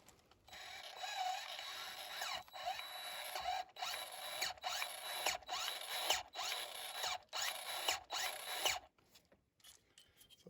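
A hand grease gun pumps grease into the track tensioner of a Kubota SVL75-3 skid steer, giving close, rhythmic squeaky strokes repeated about a dozen times with short pauses between.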